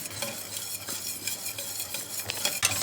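Cocoa and butter mixture heating in a pot is stirred, soft repeated scrapes and light clinks of a utensil over a faint bubbling sizzle, quiet and close, no talking.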